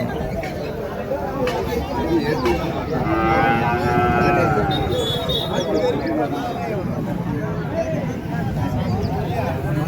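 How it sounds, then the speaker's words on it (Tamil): A native cross-breed cow moos with several drawn-out calls at a large cattle market in Tirupattur district, under steady crowd chatter and someone talking nearby. "இதுவும் பார்த்தீங்கன்னா ஒரு கொடை மாடு."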